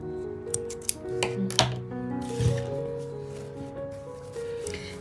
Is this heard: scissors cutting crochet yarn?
yes